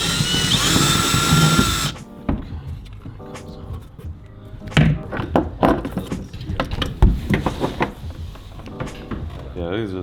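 A power drill whirs for about two seconds while unscrewing screws on a fishing kayak, then stops; scattered knocks, clatter and handling noises follow alongside someone talking.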